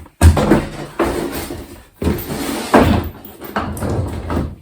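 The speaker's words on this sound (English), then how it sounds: "Let's get the drawer in." A wooden drawer slides into a small kitchen table in a few loud, close knocking and scraping bursts, each ending in a thump as it seats, with brief pauses in between.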